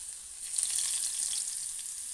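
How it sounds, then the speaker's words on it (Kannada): Ginger and garlic sizzling in hot oil in a home kitchen, a steady bright crackle and hiss close by that swells slightly midway and keeps going throughout. "ಈಗ ಬೆಳ್ಳುಳ್ಳಿ ಒಂಚೂರು ಹಾಕೋತಾ ಇದ್ದೀನಿ."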